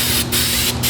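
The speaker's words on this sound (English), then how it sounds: "So what we're going to do is spray this back side of the insulation" Adhesive hisses out of a spray can onto the back side of floor insulation panels, two close, loud bursts of sharp spray with a brief pause between them.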